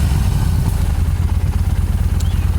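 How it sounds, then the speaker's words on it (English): A Yamaha Star Bolt R-Spec motorcycle idles steadily up close, its stock exhaust giving a deep, even, throbbing rumble with no revving. "The exhaust sounds amazing for a stock exhaust."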